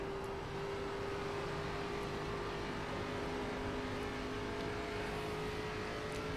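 A race car in the iRacing video game, an ARCA Menards series car, doing a post-race burnout: a steady, loud engine drone with a sustained tonal whine, continuous and unbroken throughout, with no talk.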